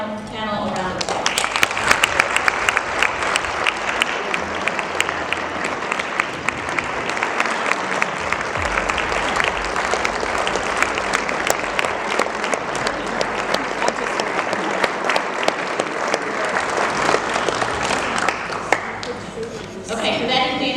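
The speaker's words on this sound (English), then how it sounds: "Please give our panel a round of applause." A room full of people applauds a political panel at an Oklahoma Democratic Party event: dense, loud, sustained clapping for about twenty seconds, with a faint murmur of voices underneath.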